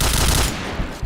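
A quick burst of rapid video game gunfire, loud and dense at first, then thinning into scattered shots within about a second.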